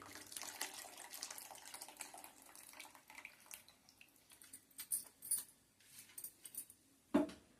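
Water poured into a pot of Godavari-style pulasa fish curry until the fish pieces are covered, a faint splashing trickle with a few sharper clinks near the end.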